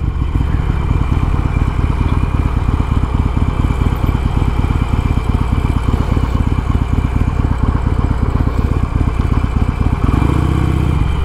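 A Harley-Davidson Sportster Iron 883 with Progressive 412 shocks rides over bumps, its engine a loud, steady, throbbing rumble with rapid pulsing, thick wind noise, and no talk over it.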